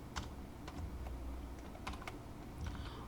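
Typing on a computer keyboard during a grammar revision lesson, with scattered clusters of key clicks in an irregular rhythm over a low steady hum, fairly faint and with no talking.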